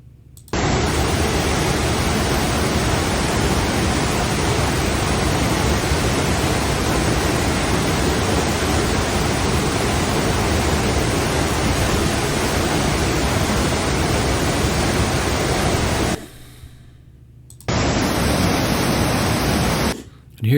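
Dry Falls, a waterfall in North Carolina, roars as a loud, steady broadband rush that stops briefly near the end before resuming.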